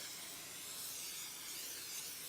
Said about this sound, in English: I'm going to spray this with a little bit of cooking spray first